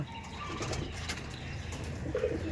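Madrasi pigeons of tournament quality cooing together at a loft in Dum Dum, a steady low murmur of overlapping coos with occasional wing rustle, continuous and moderately close.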